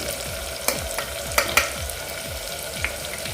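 Onion-garlic masala, garam masala, red chilli powder and turmeric sizzling in a pan, a steady close frying hiss with a few sharp stirring clicks and scrapes, no talk.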